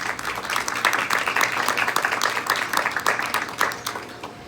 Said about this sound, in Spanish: para quienes les pido un fuerte aplauso